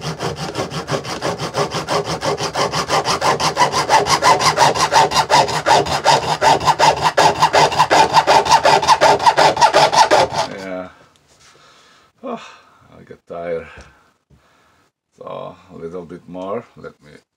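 A hand saw with a waxed blade cuts steadily through a metal oil filter in fast, even back-and-forth strokes for about ten seconds, then stops, followed by someone talking close by.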